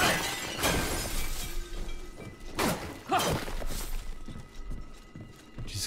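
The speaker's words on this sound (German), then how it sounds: "Ich mach eure Vasen kaputt." Ceramic vases smashing in the action game Remnant: From the Ashes, several separate crashes of breaking pottery spaced a second or two apart over a faint ambient hum.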